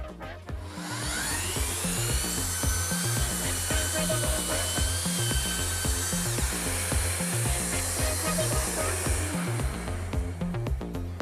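A Festool Planex LHS 2251 drywall sander runs steadily close by, a high whining motor tone over a rapid rhythmic low pulsing that holds for the whole stretch, alone without speech.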